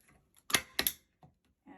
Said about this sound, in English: And I just put 2 staples on each side.